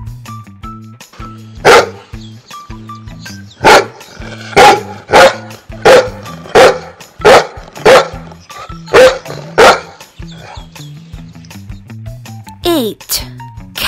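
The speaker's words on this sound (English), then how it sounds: "Dog," A dog barks about nine times in a loud, close, evenly spaced series, each bark short and punchy, followed by a brief higher whine at the end.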